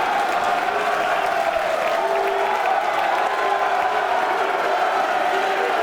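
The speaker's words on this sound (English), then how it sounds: "the crowd is all jazzed up by that shot" A pool hall crowd at a professional doubles match in Moscow applauds and cheers after a shot, sustained clapping and excited voices filling the room in an even, continuous wash.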